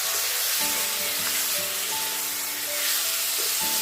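Tamarind pulp dropped into a pan of sizzling kul (jujube) pickle gives a steady, close frying hiss that runs the whole time, with soft sustained musical tones playing underneath.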